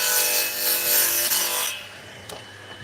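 A radial arm saw cuts through wood in a home workshop, a loud bright whining rasp of the blade through the board for under two seconds, then dropping away to a quieter hum with a light knock.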